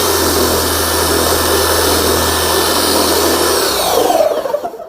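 A car polishing machine spins at its lowest speed setting on a primed pad, a loud steady whine and hum held close for several seconds, then spinning down and cutting off near the end.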